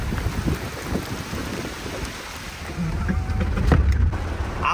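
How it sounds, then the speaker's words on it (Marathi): Heavy rain pours steadily, then a deep rumble of thunder swells near the end. "पावसाचा आनंद घ्यायचा हे बघा पाऊस"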